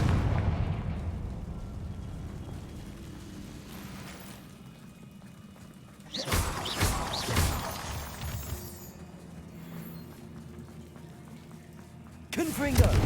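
Confringo fire spell explosions in Hogwarts Legacy: two sharp, loud blasts with crackling tails go off several seconds apart amid ambient game sound, and a voice is heard speaking in between.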